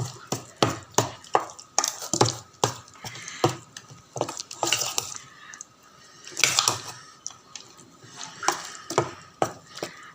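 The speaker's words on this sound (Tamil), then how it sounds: "இது நல்லா ஒரு கரண்டியில் நல்லா மிக்ஸ் பண்ணி விட்டுக்கலாம்" A spoon works ground curry leaf paste in a bowl, giving a run of separate scraping and clinking strokes in an uneven rhythm with short pauses between them. The strokes are close and moderately loud.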